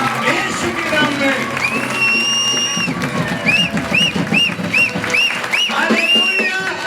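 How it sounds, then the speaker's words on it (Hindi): A church congregation at a Christmas celebration service claps loudly and continuously, a dense crowd texture with cheering and a tonal musical line running through it, close and full. "जिसकी ताली जितनी जोर से उसका इतना जल्दी हो जाए यीशु के नाम में"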